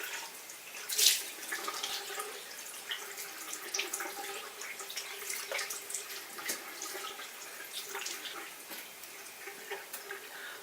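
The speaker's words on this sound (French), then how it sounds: "Et là, je vais me rincer le visage." Tap water runs into a bathroom sink while a face is rinsed, soft and close, with splashes, drips and small knocks against the basin scattered through the steady trickle.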